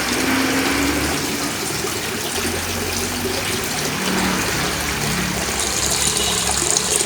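Water falling steadily into an aquaponics tank, a continuous close splashing and gushing wash with a low pump-like hum beneath, with no voices.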